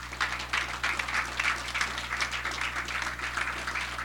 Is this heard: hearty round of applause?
yes